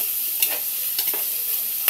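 Tomatoes cooking in a pot for a Filipino beef stew, giving a steady close hiss with a few soft stirring knocks and clinks at intervals, no voices.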